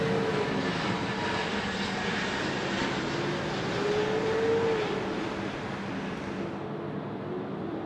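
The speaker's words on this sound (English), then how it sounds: "Jetstar 507, the A321 Neo OFL off to Melbourne on the milk run" A Jetstar Airbus A321neo takes off at Sydney Airport in heavy rain, a loud steady broadband jet roar blended with rain hiss that holds evenly throughout, with a faint engine whine rising and falling; no speech.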